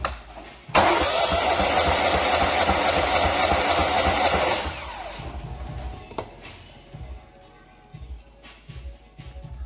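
A Lincoln Ranger 305G welder engine with a suspected head gasket fault cranks on the starter during a compression test: a loud, steady, rapid whirring churn for about four seconds, then it cuts off, leaving faint clicks and handling noises nearby.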